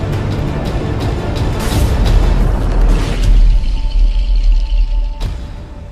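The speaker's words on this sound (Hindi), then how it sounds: "तो राम के कहने पर मैजिकल रोबोट उन दोनों पर फायरिंग करने लगा" A cartoon robot fires its weapons amid loud, continuous booming explosions and rumbling blasts, ending with a sharp burst before the roar eases.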